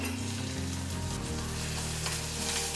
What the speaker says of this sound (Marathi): आता आपण फोडणीला कांदा घालतोय